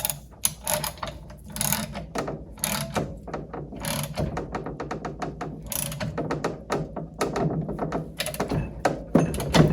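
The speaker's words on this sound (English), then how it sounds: "I'm going to transition back to the ratchet." A hand ratchet clicking rapidly and steadily while working on a Mercruiser outdrive lower unit during a rebuild, close and fairly loud, in repeated runs of sharp pawl clicks broken by brief pauses and thunks.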